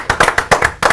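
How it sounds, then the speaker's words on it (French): Short burst of clapping from a studio audience on a French talk show, loud and close, with a few separate hand claps in quick irregular rhythm under a second long. "Applaudissements pour lui."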